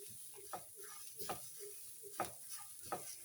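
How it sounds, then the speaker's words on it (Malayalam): Grated coconut being stir-fried and tossed in a pan, with a steady soft sizzle under rhythmic scraping strokes of a spatula, roughly one stroke every second, close up. "ഇനി നമുക്ക് അതിനകത്തോട്ട് തേങ്ങ ഇടാം തേങ്ങയും അതേപോലെ കുറച്ച് നേരം ആ വെള്ളമായി ഒന്ന് പറ്റുന്നിടം വരെ ഒന്ന് ചിക്കി എടുക്കണം"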